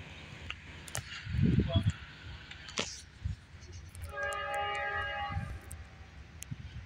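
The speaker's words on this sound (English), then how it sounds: "we got another Norfolk Southern southbound here." Norfolk Southern freight train 171, southbound, approaching Marion Union Station in Ohio, sounds a harsh multi-tone horn in a sustained blast over rumbling rail noise, with brief talk earlier.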